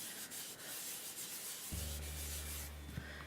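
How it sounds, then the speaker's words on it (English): An embossing buddy rubs across black cardstock in a soft, faint scuffing hiss, close by. A low steady hum joins partway through. "use my embossing buddy to go over the entire cardstock"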